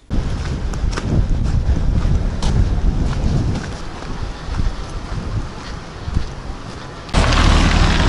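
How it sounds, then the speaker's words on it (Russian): Cold wind blows outdoors on a winter street at about minus two degrees, buffeting the microphone in loud rumbling gusts that swell sharply near the end, with no talking. "Да, конечно, ветер холодный дует."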